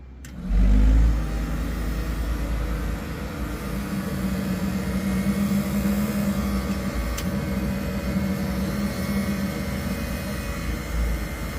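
A new-old-stock Stewart Warner South Wind 2 gas heater, left sitting for 45 years, runs with a steady droning hum and roar after a brief thump at the start, holding an even level throughout with no talking.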